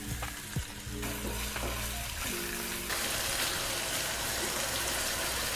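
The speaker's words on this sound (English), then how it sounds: "We're tossing in the garlic into the center where it hits the fond." Garlic and onion hit hot oil in a pan, a loud continuous sizzle that swells and brightens partway through as more goes in, with faint stirring clatter and no voices.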